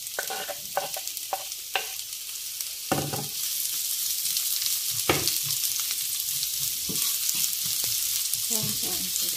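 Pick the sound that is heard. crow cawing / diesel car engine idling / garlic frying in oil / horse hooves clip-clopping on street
garlic frying in oil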